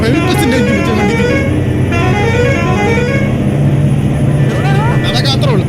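A private bus sounds its horn on a road in Wayanad, loud tooting tones mixed with engine noise while people talk over it.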